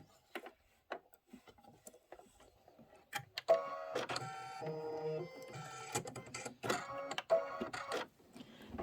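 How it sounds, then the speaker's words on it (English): A home embroidery machine stitches a witch hat pillow design, giving a busy mechanical run of rapid stitching clatter after a few scattered clicks, loud and close with no voices. "this is 3 minutes of stitching"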